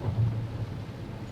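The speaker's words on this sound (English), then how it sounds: "I just want to show the rain as it's coming down pretty heavy now." Heavy rain pounds a car being driven at night, a low rumbling wash of water on the body and windshield that surges briefly and then settles into a steady patter.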